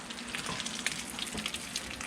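A taco fries in hot oil, with a steady bright sizzle and crackle throughout and a light knock partway through as it is flipped over.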